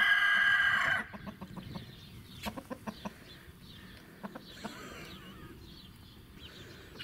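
Rooster among turkeys on a farm, a loud crow-like call opening the scene, then a series of short clucks and sharp chirps at moderate distance over a quiet outdoor background.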